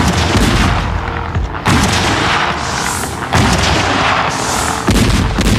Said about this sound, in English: On the 10th of October, the Allies opened fire.